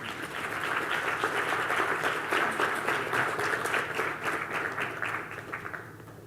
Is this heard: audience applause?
yes